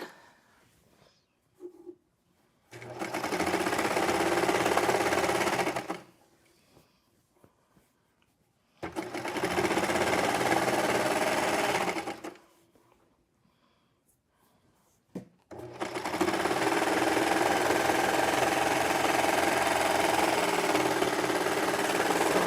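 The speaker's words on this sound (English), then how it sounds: "we're just going to sew right over that" A serger sews over a nested seam on a ruffle skirt in three steady mechanical runs, the first two of roughly three seconds each and the last one longer, separated by quiet pauses.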